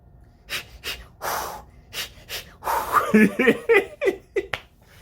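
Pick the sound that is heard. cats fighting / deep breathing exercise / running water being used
deep breathing exercise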